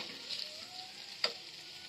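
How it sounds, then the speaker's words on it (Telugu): Chicken pieces coated in chilli powder fry in a pan with a steady, bright sizzle, a faint stir or tap of a spoon breaking through once, no voices. "కారం కూడా వేసుకుని బాగా తిప్పి పెట్టుకోండి ఇలా మరో ఐదు నిమిషాల పాటు వేగనివ్వండి"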